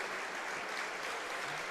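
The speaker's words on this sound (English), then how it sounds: "round of applause" Distant crowd applause at a Bradford Bulls away rugby league match, a faint, even wash of clapping from the stands with no break.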